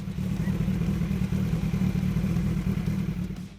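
Kawasaki Ninja ZX-12R sport motorcycle from 2000 to 2006, its engine running with a steady, loud, close mechanical rumble and clatter throughout, easing slightly at the very end.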